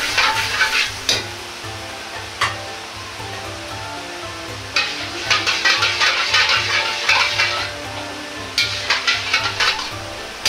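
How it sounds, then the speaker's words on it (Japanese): A sauce thickened with potato starch stirred in a pan over heat, with low steady bubbling and sizzling and repeated scraping stir strokes that come in bursts. "混ぜながら加熱してしっかりととろみをつけます。"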